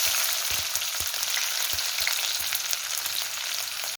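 Chopped onions frying in hot oil with cumin seeds and fenugreek for a Tamil mochai kara kuzhambu, giving a steady bright sizzle throughout, close and fairly loud, with a few soft stirring knocks and no talking.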